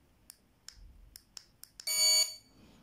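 A few short electronic chirps, then a loud, shrill intrusion alarm siren blares for about half a second before cutting off.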